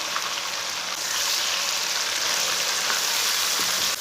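Chopped tomatoes and green chillies fry steadily in hot oil in a pan for a home-style chicken curry, a dense continuous sizzle that stays loud and close throughout with no talking.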